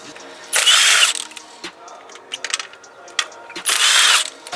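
Two bursts of a power tool zipping intake plenum bolts off an Acura TL, each about half a second, with quieter clicks and tool handling in between, close and loud.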